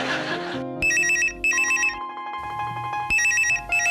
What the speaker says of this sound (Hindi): टेलीफोन कब से चीख रहा है?